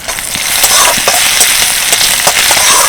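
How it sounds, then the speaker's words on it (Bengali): Cumin seeds, crushed ginger and garlic, and chopped green chillies frying in white oil in a wok, a loud, close, continuous crackling sizzle with a few sharper pops, no voices. "এখন কড়াইতে দিয়ে দিচ্ছি অল্প একটু সাদা তেল, অল্প একটু সাদা জিরে, দিয়ে দিচ্ছি থেঁতো করা আদা রসুন"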